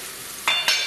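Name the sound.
onions sautéing in a pan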